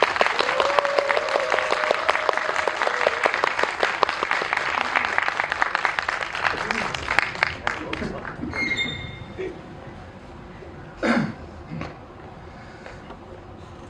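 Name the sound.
applause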